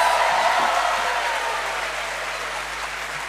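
Audience applause after a children's performance at a school annual day, a dense, sustained wash of clapping from a large crowd that slowly tapers in loudness, with no voices over it.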